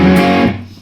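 A short, loud burst of distorted electric guitar from a guitar lesson: one ringing overdriven chord that decays within a second, with no voice.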